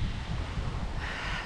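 Wind gusting across a microphone on a hike in Grampians National Park, a steady broadband rush with low buffeting rumble throughout, no voices.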